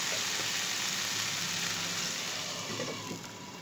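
Chicken frying in a pan for a crispy chicken cheese burger, a steady dense sizzle and crackle of hot oil that carries on without a break and eases off slightly near the end, with no talk.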